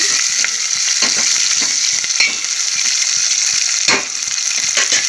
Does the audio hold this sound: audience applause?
no